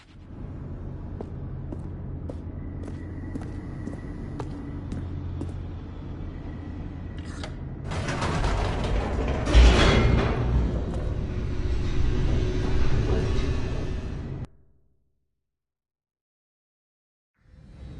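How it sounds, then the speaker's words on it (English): An elevator in The Stanley Parable video game plunges downward, a steady low rumble swelling into a louder roaring descent with a sharp jolt near the middle, then cutting off abruptly into silence. "The elevator raced downward"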